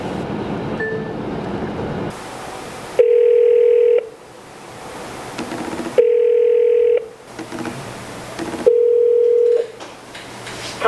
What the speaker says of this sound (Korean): 사무실에 나오자마자 무의식 중에 돌리는 전화 다이얼